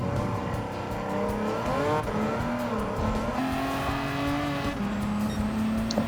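The Merrick SS car in Gran Turismo 7 drives with a steady, loud engine drone whose pitch rises and falls through gear changes, with faint tire noise and no voices.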